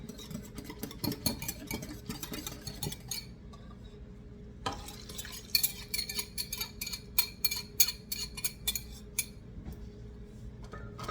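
A utensil stirs a milk mixture into an egg mixture for a cheddar cheese soufflé, making quick, rhythmic clinks against a bowl with a short pause midway, close and fairly quiet.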